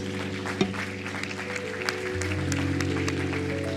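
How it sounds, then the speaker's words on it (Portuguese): A church congregation applauds during a worship service, clapping mixed with sustained organ or keyboard chords that shift partway through, at moderate loudness. "Vamos aplaudir ao Senhor bem forte."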